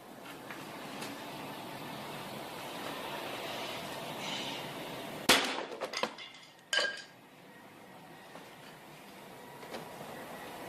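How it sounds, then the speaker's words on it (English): A sledgehammer strikes a 2 mm polycarbonate sheet with a sharp, loud impact, followed by a rattling clatter and a second, smaller knock, standing out against a low background hum. "for a final test, we'll try hitting it with a sledgehammer."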